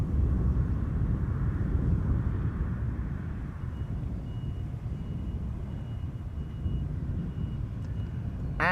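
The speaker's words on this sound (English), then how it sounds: "Another departure from 18 left. KLM Embraer 190." A KLM Embraer 190 jet in SkyTeam livery departs runway 18 Left at Amsterdam Schiphol, a steady, broad engine roar that holds at even strength for several seconds and fades slightly toward the end.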